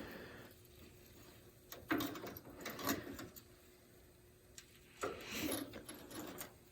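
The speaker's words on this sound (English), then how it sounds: "you put your wrench on this and then you turn it" Wrench turning the toe adjuster on a Polaris RZR Pro R side-by-side, with faint metallic ratcheting clicks and scraping in a few short bursts, close by in a quiet workshop.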